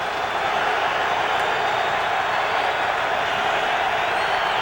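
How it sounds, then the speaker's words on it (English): A Giants Stadium crowd at an Eagles at Giants NFL football game in 2003 roars loudly and steadily, a dense, unbroken wash of cheering that holds at full strength from start to finish. "the Giant crowd becoming alive again"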